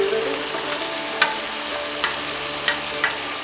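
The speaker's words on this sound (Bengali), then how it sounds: "এবার রান্নাটি কষান আরও পরবর্তী 10 মিনিট।" Diced papaya and potato stir-fried together in a pan for shukto, a steady close sizzle with a few sharp scrapes and clinks of a spatula stirring at intervals.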